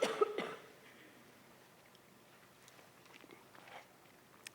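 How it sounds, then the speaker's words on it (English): A woman with a lingering months-long post-COVID cough gives one short, sharp cough at the start. A quiet lecture hall follows, with faint rustles and small movements. "I have that months-long cough that people get from COVID."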